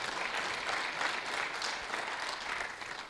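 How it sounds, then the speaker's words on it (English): A live podcast audience gives the show's producer a round of applause, a dense, continuous clapping that stays fairly loud and even throughout, with no talk over it. "And give him a round of applause."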